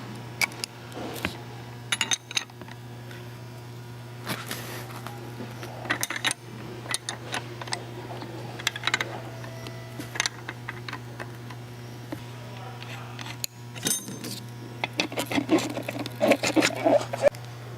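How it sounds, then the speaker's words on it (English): Metal tools clicking and tapping as an 18 mm open-end wrench and 6 mm hex key loosen a strut mount nut on a KYB strut assembly, with scattered light clinks and ratcheting taps over a steady background hum. "I can go ahead and remove the nut and the mount"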